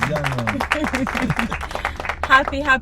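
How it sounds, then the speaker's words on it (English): Scattered clapping mixes with voices cheering and calling out during a porch birthday celebration, the crowd noise close and lively. "I need a standing ovation for this one."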